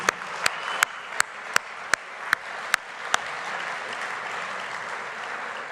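Faint, distant applause from an evening gala audience, a soft wash of clapping with a few sharp nearby claps standing out at regular intervals.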